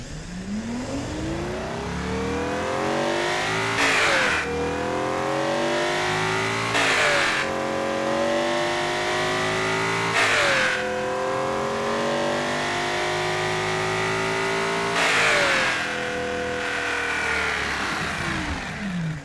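A tuned engine fitted with EFI fuel injection revs hard four or five times, each rise sweeping up in pitch to a loud peak and then dropping back to idle, close and with no talking.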